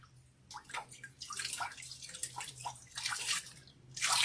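Cold water is splashed onto a face in repeated handfuls, close and wet, with drips and sloshing at an uneven rhythm over a low steady hum.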